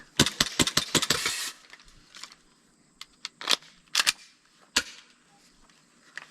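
A green gas airsoft Glock pistol fires a quick string of six or seven sharp snapping shots, then a few spaced single shots. The shots are close and crisp.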